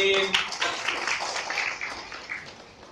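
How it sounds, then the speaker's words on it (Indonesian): Applause from an audience at an Indonesian talk or seminar, a dense patter of hand claps that starts strong and gradually thins out, with no voices over it. "silakan tepuk tangan buat Mas Yusti"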